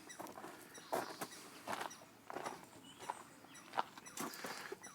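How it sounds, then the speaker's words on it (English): A squirrel calls faintly in the distance outdoors near an RV lot, a run of soft, scratchy chatters and patters in irregular bursts over quiet background. "Can you hear the squirrel in the distance?"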